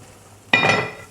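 Chicken pieces for shawarma hit a hot pan and burst into a loud, close sizzle that flares suddenly and then gradually softens.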